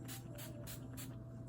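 Several quick spray bursts from a spray bottle, evenly spaced over a faint steady background hum.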